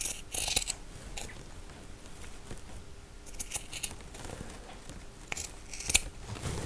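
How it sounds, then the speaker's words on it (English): Scissors snip through fabric between two rows of stitches on a handmade doll's sock, with close, irregular crisp cuts and rustling at a quiet level. "I'm going to cut in between those two rows of stitches"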